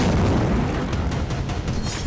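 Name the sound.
missile explosions in Israel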